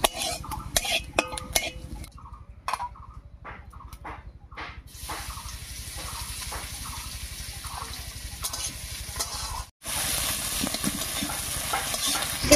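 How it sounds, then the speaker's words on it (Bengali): Whole cumin and chopped onion fry in hot oil, giving a steady sizzle broken by sharp clacks and scrapes of a spoon stirring against the pan, loud and close with no talk. "জিরা একটু ভাজা হয়ে গেলে তারপর পেঁয়াজটা দেব।"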